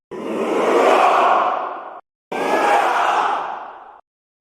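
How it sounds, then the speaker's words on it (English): Two long, loud bursts of massed shouting come from game studio staff gathered in a lunchroom, each swelling and fading like a roaring crowd battle cry, with a short silent gap between them. "This is the Double Helix studio in their lunchroom giving us these shouts"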